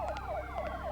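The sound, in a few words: sirens in the video game Parasite Eve 2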